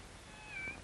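A cat gives a single short, soft meow near the end of a quiet interior scene in a 1950s television drama.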